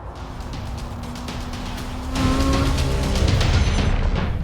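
A Lamborghini Huracán EVO sports car engine drones steadily, then rises noticeably louder and fuller about halfway through, as if revving up or coming closer, with no talk over it.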